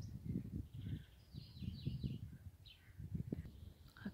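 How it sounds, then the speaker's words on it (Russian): Several spring birds sing and chirp in short repeated phrases, fairly faint and a little distant, over a soft, rustling outdoor background with no voices. "Птицы заливаются."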